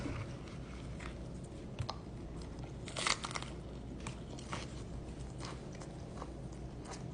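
Someone bites and chews a homemade spring roll with lettuce and a peanut butter dip, giving soft crunches and one louder crisp bite near the middle; quiet and close, with no talk.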